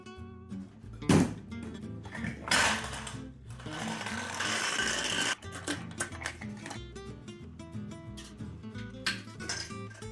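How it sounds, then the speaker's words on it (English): A giant homemade magnet fishing rod's reel is tested, giving bursts of rapid mechanical whirring and clattering, loud and close, in several uneven runs with brief pauses between. "let's actually test to make sure our reel works"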